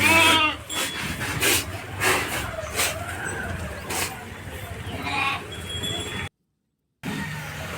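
A flock of sheep wanders through mud in the rainy season, bleating repeatedly from several animals near and farther off, with overlapping calls and scattered shuffling before a brief dropout to silence.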